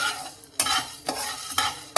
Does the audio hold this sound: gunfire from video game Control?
no